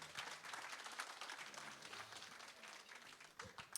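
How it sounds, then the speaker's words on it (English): A concert audience at a Cape Town Baroque Trio performance keeps up a dense, even wash of applause for the musicians, soft and somewhat distant, with no talk. "Just another round of applause for our wonderful musicians."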